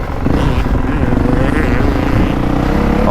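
A 2025 Honda CRF450R dirt bike engine revs loud and close, its buzzing note rising and falling through quick throttle changes on a motocross track.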